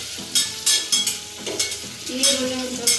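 Chopped onions fry in a pan with a steady sizzle while a spoon scrapes through them in quick, regular strokes, about eight close, fairly loud scrapes over the hiss.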